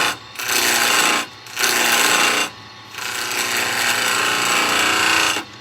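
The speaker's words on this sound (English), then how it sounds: "We're going to use the original, the big one though, just to cut in a pummel, both sides." A large skew chisel cuts a pummel into spinning yellow pine on a wood lathe, giving three loud, harsh scraping passes, each one to two seconds long, with short quiet gaps between them and no talk.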